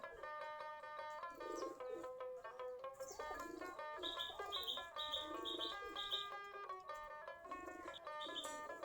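Soft, low cooing of several local Giribaz pigeons mixes with faint chirps in a quiet, continuous murmur.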